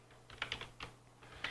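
Quick bursts of keystrokes on a computer keyboard while typing code, a few close, soft clicks in two short clusters.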